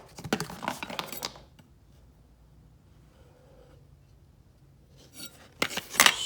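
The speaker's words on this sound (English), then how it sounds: "I'm going to start sanding on the 3 dinner skinners that I've already got all the bevels ground on these" Hand sanding on the blades of dinner skinner knives with ground bevels, quick raspy scrubbing strokes close up, a burst at the start, a quiet pause, then more strokes at the end.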